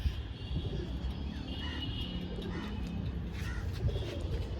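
Pigeons coo repeatedly inside a pet bird shop, with soft, low, rolling calls from several birds close by over a faint background murmur.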